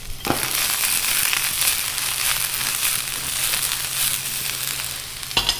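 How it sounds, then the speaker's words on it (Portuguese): Chopped garlic sautéing in a hot pan gives a steady, close, fairly loud sizzle that runs throughout, with a couple of sharp clicks or taps from utensils on the pan. "Vou picar grosseiramente esse alho. E aproveitar aqui para refogá-lo junto."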